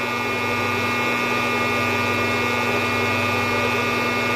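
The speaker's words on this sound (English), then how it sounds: "That's why the fan's at full blast on 9." A coffee roaster's fan blasts at its top setting, 9, while green beans dry, giving a loud, steady, vacuum-like roar with a constant hum and no talk over it.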